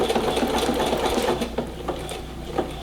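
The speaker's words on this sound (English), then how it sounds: "So now it's doing the other end of the buttonhole." A sewing machine stitches the far end of a buttonhole on a drawstring elastic waistband, its needle running in a steady, rapid close whir that eases slightly before the end.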